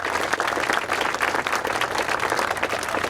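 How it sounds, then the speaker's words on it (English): A crowd at an outdoor Superman celebration in Metropolis, Illinois applauds committee members, a dense, even wash of many hands clapping at steady loudness for about three seconds. "let's give them a round of applause"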